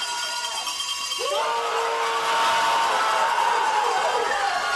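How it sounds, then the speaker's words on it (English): A hometown crowd at a men's skeleton World Cup race in Calgary roars and cheers, the broad noise swelling and holding loud and sustained across the venue, with faint voices blended into the din. "Huge roar from the hometown crowd"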